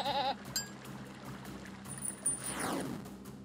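A goat in the video game There Is No Game gives a short bleat at the start, followed by quieter game sound effects and a sweeping tone later.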